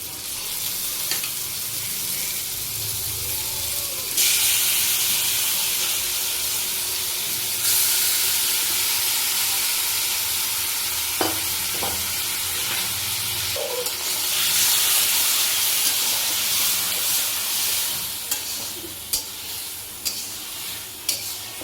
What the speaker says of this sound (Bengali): চিকেনটাকে এবার আমরা খুব ভালো করে কষিয়ে নেব